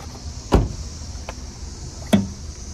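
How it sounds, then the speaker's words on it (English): Trunk release on a 2012 Honda Civic LX 1.8 gives two separate mechanical clunks about one and a half seconds apart, close and fairly sharp, against a quiet cabin hum with no talking. "Let's go ahead and hit the release for the trunk."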